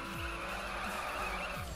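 Tires on a RUF CTR-3 sports car skidding while drifting in the racing game The Crew, a loud sustained squeal over a steady engine roar with pitch sweeps as the car slides, no talk.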